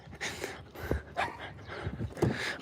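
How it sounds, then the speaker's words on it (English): Several dogs bark and yip loudly in irregular bursts close by, with some whimpering and panting between the barks. "Those dogs were so loud."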